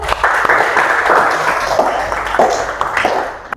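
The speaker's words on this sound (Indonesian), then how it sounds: "Oke, tepuk tangan dulu" A classroom group claps for a presenting group, with many hands giving loud, dense, continuous applause for several seconds that tapers slightly toward the end.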